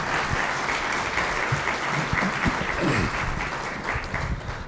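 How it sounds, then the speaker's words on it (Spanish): Sustained applause from a conference audience for a panel of speakers at a plenary session, steady and fairly loud throughout, with many hands clapping at once. "queremos agradecer a nuestros 4 panelistas, para quienes pido un fuerte aplauso."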